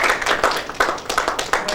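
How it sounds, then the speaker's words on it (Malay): A small crowd claps together in quick, steady rhythm, fairly close and lively, without any talking. "Berikan tepukan untuk tokoh negara kita."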